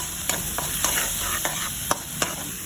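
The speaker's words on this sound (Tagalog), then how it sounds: "sa same pan, nag-isa tayo ng luya, bawang at sibuyas" Ginger, garlic and onion sautéing in a pan for batchoy, a soft continuous sizzle broken by several sharp clicks and scrapes of a utensil against the pan, with no talking.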